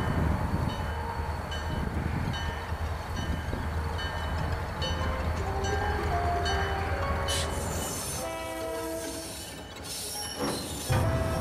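A train rumbles past at night with wheels squealing and clattering on the rails, growing louder and sharper toward the end, set as an eerie sound effect in a spoken urban legend about the Pope Lick trestle.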